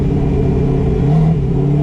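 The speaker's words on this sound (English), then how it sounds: "I like how it pops though. Yeah, that limiter pop." A 700-horsepower twin-turbo 8-rotor Mazda RX-7 engine is held at high revs against the limiter, a loud, close, sustained drone with a slight rise in pitch partway through and no voices.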